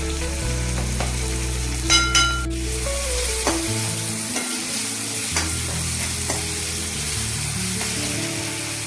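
Tomatoes and salt cooking in a pan for a radish (mooli) curry, with a steady close sizzle and occasional stirring scrapes, sounding alone with no talk.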